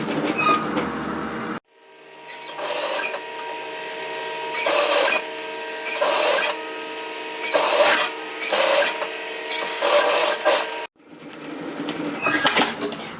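A sewing machine back tacks along the underarm seam of a cardigan, running in several short, whirring bursts separated by brief pauses, close by, with quieter handling sounds at the start and end.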